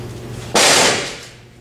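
A dog agility teeter board bangs down once at a training course, one sharp loud crack that rings briefly and then fades, with quiet background beforehand.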